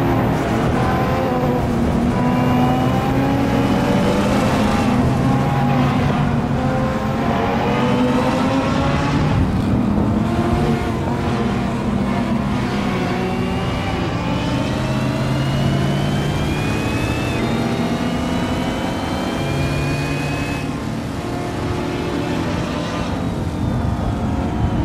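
A supercharged 6.2 litre V8 car in the Assetto Corsa racing game drones on continuously, revving up and down through gears with a rising and falling engine tone, loud and close, no talk.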